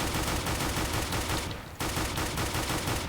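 Dual pistols blast away in CS:GO in a fast, relentless string of loud, close gunshots, with a short pause near the middle before the rapid firing resumes.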